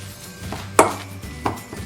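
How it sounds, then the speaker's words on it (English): Mashed potato with onions and carrots is mixed in a bowl, giving two distinct close scraping knocks of a utensil against the bowl over a low background hum. "to your mashed potato. And we'll mix it well."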